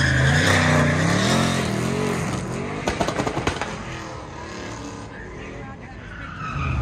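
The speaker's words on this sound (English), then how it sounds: "rolling up to the line, that 1974 Chevy Blazer. It's got LT power, twin turbos" A 1974 Chevy Blazer truck with an LT engine and twin turbos accelerates hard at an autocross event, its engine roaring loud and close as tires skid and squeal, with an announcer talking over it.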